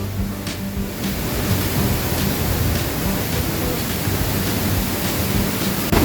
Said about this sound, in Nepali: Welcome to लप्से Jharna.